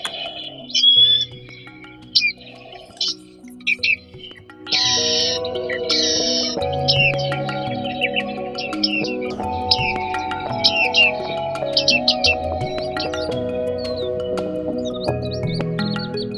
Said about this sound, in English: Bearded reedlings travel within their flocks and feed together.